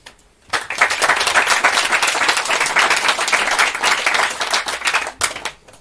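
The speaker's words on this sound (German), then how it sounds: "Herzlichen Applaus für" Loud, close applause from the audience at a Swiss youth hackathon project presentation starts sharply after a brief quiet moment, continues as a thick crackle of many clapping hands and tapers near the end.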